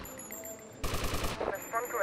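A short, rapid burst of automatic gunfire in GTA Vice City, sharp pulsing shots lasting about half a second, set against quiet game ambience with a faint electronic tone.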